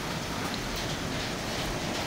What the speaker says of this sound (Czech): A padají kroupy.